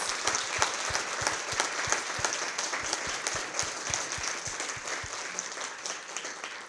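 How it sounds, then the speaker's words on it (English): A conference audience gives a transfer student panel a round of applause, with sustained crowd clapping and a few loud nearby claps at a steady pace, easing slightly toward the end. "let's give our panel a round of applause"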